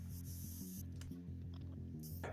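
An airbrush sprays purple candy paint in short hissing bursts, one at the start and another near the end, over a steady hum.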